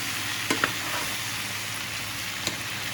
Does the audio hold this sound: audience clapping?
no